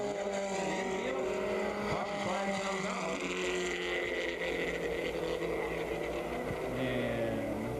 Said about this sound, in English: the green flag's out, and they're back into racing